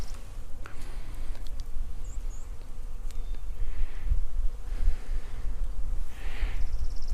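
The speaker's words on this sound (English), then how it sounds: "So the bees are doing just wonderfully here." Bees buzz around blooming plum trees in a food forest, a continuous close hum with individual insects swelling louder as they pass near, and no voices present.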